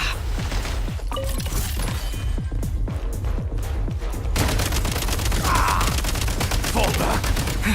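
Dense in-game gunfire from Genshin Impact, rapid bursts and crackling shots running continuously with impacts and crashes layered on top, loud and busy throughout with faint voices underneath.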